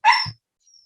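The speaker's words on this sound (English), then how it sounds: "this dog has been barking all day at nothing" A dog lets out one sharp, loud bark close by, followed by a faint trailing whine, with no voices.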